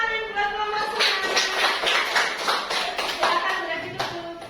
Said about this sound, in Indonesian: Tepuk tangan buat Mama Sunan.